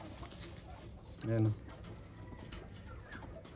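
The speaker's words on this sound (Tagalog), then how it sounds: "Yan, mga ready to breed na mga kalapatids." Taiwan breeding pigeons give a single low, soft coo amid steady background noise, with someone speaking briefly nearby.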